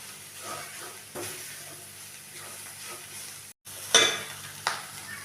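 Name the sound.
masala frying in a pan for homemade momos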